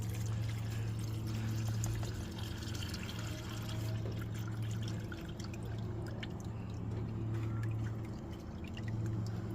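Transmission fluid from an Acura TL Type S pouring steadily out of the drain into a pan, a continuous close trickle under a low droning hum that lasts the whole stretch with no speech.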